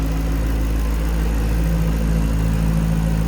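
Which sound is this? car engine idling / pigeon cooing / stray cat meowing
car engine idling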